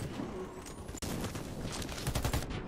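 AK-47 gunfire in Warface on Nintendo Switch: a sustained stretch of rapid in-game shooting, with a sharp, loud burst right at the end.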